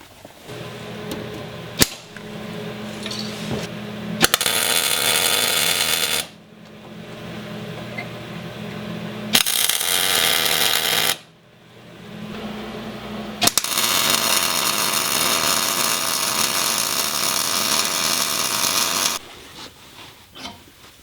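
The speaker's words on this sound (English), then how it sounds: "So now I can just weld them up" Brackets for a transmission support being welded, long steady crackling bursts of several seconds each broken by short pauses, close and loud with no talk.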